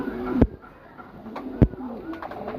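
Soft, low pigeon coos repeat close by, punctuated by two sharp knocks or taps, with no talking, from red pigeons kept for sale.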